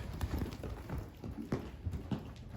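Hooves clip-clop on the ground as a green colt is ridden forward, a steady irregular string of nearby thuds under low background noise.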